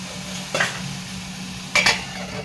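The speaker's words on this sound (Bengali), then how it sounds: "কড়াইটাকে আমি ভালো করে মিক্স করে দেবো" Long beans are stirred in a kadai with a spatula, two close metallic scraping bursts over a faint steady sizzle, the second a quick double scrape.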